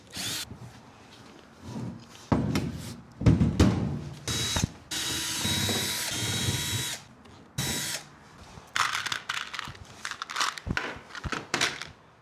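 Power drill backing screws out of new Kings drawers, a run of short whirring bursts with ratcheting clicks and rattles, close and fairly loud, with brief pauses between screws and no talk.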